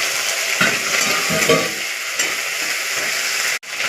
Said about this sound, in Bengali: এবারে দেবো শুটকি মাছ দিয়ে রেখেছিলাম, ছোটো মাছ, ওইটা দিয়ে দিলাম।